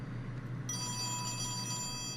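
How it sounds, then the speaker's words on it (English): A telephone rings in the video game Oxenfree, a steady electronic ringing tone that starts partway in over a low background hum, moderately quiet and with no talking. "Well, oh, that's the phone."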